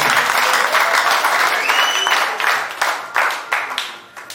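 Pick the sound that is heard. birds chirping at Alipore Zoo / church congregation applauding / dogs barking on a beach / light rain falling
church congregation applauding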